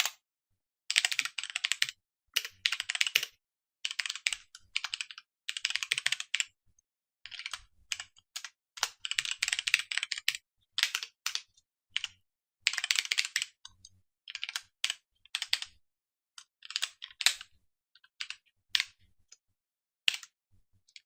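Code is typed on a computer keyboard in fast bursts of close, crisp key clicks, separated by short pauses, over near silence for about twenty seconds.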